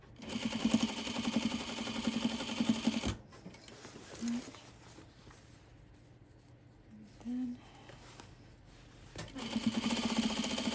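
A sewing machine hems a pair of jeans with loud, steady runs of rapid whirring at the start and end, and quieter handling and brief voice sounds in between.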